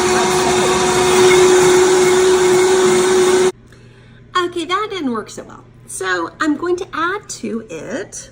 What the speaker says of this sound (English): I've got it on the smoothie setting. Let's see how it goes. Now it's spinning really well.